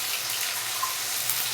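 Water from a tap trickles steadily into a cooking pan while ginger-garlic paste and tomato-prawn bhuna are being prepared, a continuous soft splashing flow that stays close and even throughout, with no voices.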